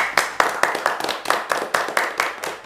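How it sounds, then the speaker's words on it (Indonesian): A small group clapping together briefly, crisp close handclaps in a quick uneven rhythm without cheering. "Aplaus buat kalian semua."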